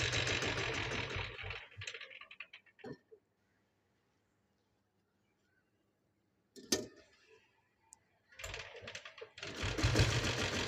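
A 1995 single-cylinder Royal Enfield diesel Bullet motorcycle runs with a rapid, close clatter. It falls silent for a few seconds, then kicks back into a loud, steady, rhythmic idle.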